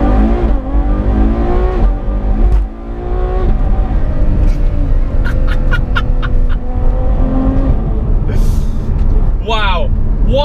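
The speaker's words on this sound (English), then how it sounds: "Have you heard those upshifts? It is a tone change. It is seamless." A Ferrari F12 supercar with shortened gear ratios revs hard and upshifts seamlessly, its engine note climbing and dropping in a loud, close series of pulls, with someone talking over it.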